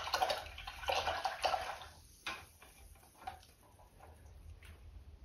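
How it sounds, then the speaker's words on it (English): A paint brush swished and rinsed in a water cup during an acrylic canvas painting session, with a few close, soft splashy sloshes at the start that fade into quiet room tone and faint ticks. "I'm going to wash my brush off again."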